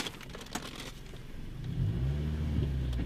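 A manual car pulls away from a drive-through window, its engine rising into a low, steady rumble as it accelerates close by, with no talking.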